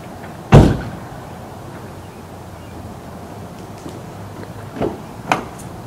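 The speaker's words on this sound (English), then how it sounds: "let me get the door for you, Morgan" A car door opens with a loud close thump near the start, followed later by fainter clicks and a second lighter latch sound, heard alone against a quiet outdoor background after a dinner outing.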